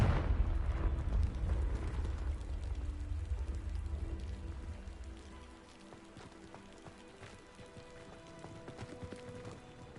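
A Confringo fire spell explodes in the video game Hogwarts Legacy, a deep rumbling blast with crackling debris that slowly fades over several seconds into a quiet, faintly crackling tail.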